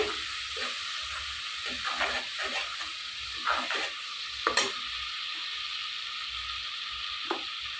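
Spice paste with turmeric root frying and being stirred in a pan: a steady close sizzle runs throughout, broken by several scraping stirring strokes and a few sharper clinks.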